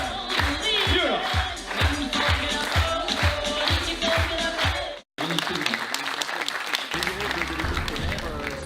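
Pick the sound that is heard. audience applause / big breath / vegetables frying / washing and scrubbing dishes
audience applause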